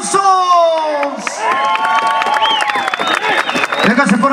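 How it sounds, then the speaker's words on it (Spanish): A large crowd cheers, whoops and applauds at a rodeo plaza during a bull-riding event, with loud, continuous shouting and whistling voices up close over steady clapping throughout. "regáleme el aplauso para ganadero y jinete"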